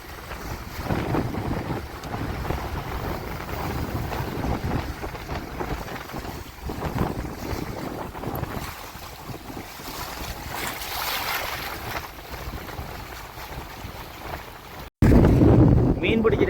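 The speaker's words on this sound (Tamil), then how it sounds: "காற்று கொஞ்சம் வந்து வளமைக்கு மாறாக வந்து அடிக்கிறத பார்க்கக்கூடிய மாதிரி இருக்கும்" Strong gusting storm wind buffets the microphone over the rush of waves on the coast at Jaffna, Sri Lanka, as seawater floods the road, continuous and loud; a voice speaks beneath it.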